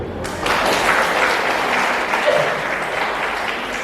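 A school reunion audience at Avinashi Government Higher Secondary claps for a speaker, steady dense applause rising quickly and holding at an even level throughout, with no voices over it.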